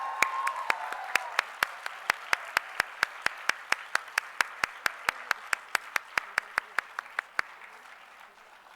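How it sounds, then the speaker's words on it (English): Sharp, evenly spaced claps beat out a steady rhythm, roughly four per second, as an audience applauds film program graduates. A faint murmur runs underneath and fades out near the end. "Please stand up so that we can appreciate and applaud you."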